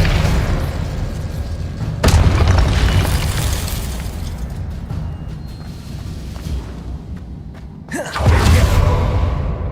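Spell blasts from the Hogwarts Legacy video game burst in heavy booming explosions, two loud sharp hits with rumbling, whooshing magical effects rolling between them, no speech.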